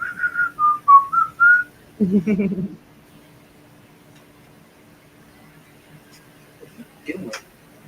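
A person whistles a short wavering tune, followed by a brief thud and a few faint clicks and knocks in a quiet room.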